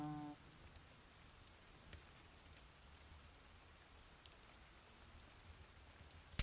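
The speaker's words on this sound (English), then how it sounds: "It sounds like too much rain, though." Faint, steady rain ambience sound effect, a soft continuous hiss of falling drops with occasional small ticks and pops scattered throughout.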